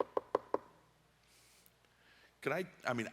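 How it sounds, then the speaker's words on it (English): Three quick knocks on wood, sharp and close, followed by a pause and then a person talking. "let me knock on wood"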